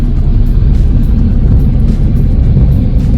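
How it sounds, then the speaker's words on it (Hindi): Car driving along a foggy hill road, a steady close-up rumble of engine and road noise that stays loud and even throughout, with no voices. "ऐसे लग रहा है ना बादल में से गाड़ी चल रही है"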